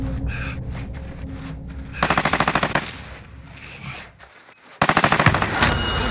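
Automatic gunfire in the Call of Duty: Warzone video game: two loud, rapid bursts of rattling shots separated by a brief lull, over a steady bed of game ambience.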